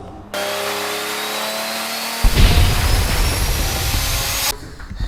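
An Audi S3 with a turbocharged five-cylinder engine, referred to as a Volvo unit, cranks and fires at about two seconds in, then settles into a loud, rough, steady idle rumble close by, after a quieter whirring lead-in.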